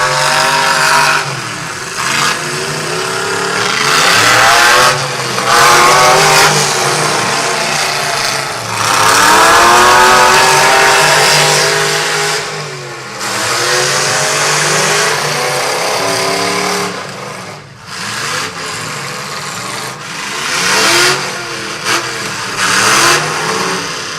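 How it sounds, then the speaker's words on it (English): A demolition derby truck engine screams at high revs on the track in Clearwater, Minnesota, loud and sustained with repeated rising and falling surges and brief drops between pulls. "Boy, I don't know what gear Kelby's got in that truck"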